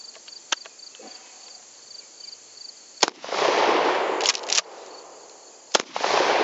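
A shotgun firing double-aught buckshot, with a Streamlight ProTac HL flashlight mounted, gives sharp loud reports spaced a couple of seconds apart, each followed by a broad rushing roar over a steady high-pitched insect-like hiss.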